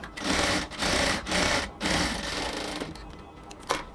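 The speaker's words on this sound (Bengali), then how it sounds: "বাট এখন হচ্ছে আমরা পাশ দিয়ে আরও একটা সেলাই দেব একদম কমপ্লিট ফিনিশিং লুকের জন্য" A sewing machine runs a line of stitches along the edge of a dress band collar, a close rapid mechanical whirring in several short bursts with brief pauses between, ending in softer clicks.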